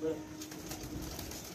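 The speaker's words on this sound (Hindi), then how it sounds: "मुन्नू भाई का भी कबूतर बाहर आ गया है" Pigeons released from a coop coo and flutter faintly outdoors in the background while people talk nearby.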